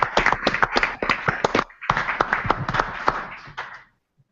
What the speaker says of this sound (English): how about another round of applause for these winners and our best wishes to them